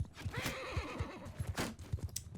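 Horses neighing and whinnying in the medieval combat game Mount & Blade Bannerlord, several overlapping whinnies with dull hoof clopping beneath, moderately loud and busy, no talk.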